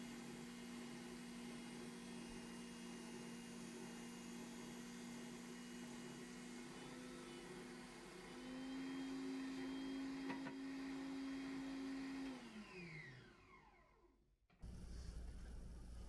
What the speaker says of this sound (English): I ran the front and the side over the spindle sander just to help even out the edges